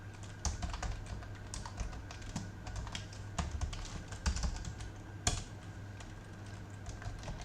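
Steady typing of code on a computer keyboard for an electronics temperature sensor project, with irregular clicking keystrokes and a few sharper key presses running throughout at close range, with no voice.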